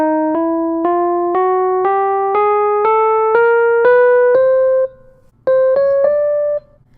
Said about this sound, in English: Putting everything we know together creates the chromatic scale, which sounds like this.